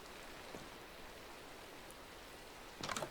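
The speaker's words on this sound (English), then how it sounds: "It's nighttime. It's raining." Rain falls in the video game Minecraft (All The Mods 3), a faint, steady hiss with a brief louder patter near the end.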